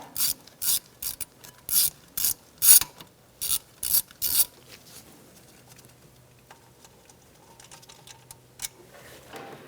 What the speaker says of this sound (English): Using a 10mm socket, we're going to take out our bolt for our speed sensor.